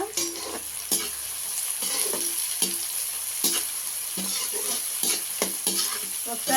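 Ingredients for a mutton curry are stirred and fried in a pan until golden. A steady sizzle runs under repeated rhythmic scraping strokes of the spoon against the pan, and no voice is heard.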